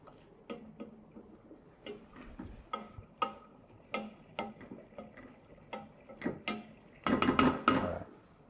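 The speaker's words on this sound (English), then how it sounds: "Those nice starches are being released through the stirring." A spoon stirs risotto rice in a pot, making irregular soft scrapes and clicks against the pot, with a louder, denser burst of stirring near the end.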